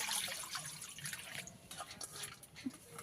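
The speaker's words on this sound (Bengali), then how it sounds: "প্রথমে কড়ার মধ্যে জল দিয়ে দেব ডাল সিদ্ধ হওয়ার জন্য।" Water is poured into a wok on a village stove to boil masoor lentils, making a soft, continuous splashing rush. The sound is faint and close, and no one talks.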